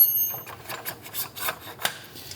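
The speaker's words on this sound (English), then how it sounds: "Now it's time to slip our mounts in." Modular mounts slide into place on a racing simulator rig, giving a series of short scraping, rubbing strokes with brief pauses between them, close and moderately quiet.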